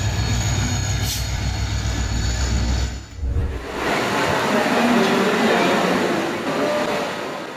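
A train rolls past close by in a near miss with a cow, a loud continuous rumble of wheels and carriages with a short high squeal early on and a momentary dip before the rushing noise resumes.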